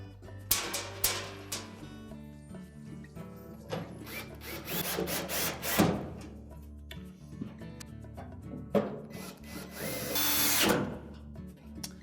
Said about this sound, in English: Next we'll put the 3 retaining screws in at the back.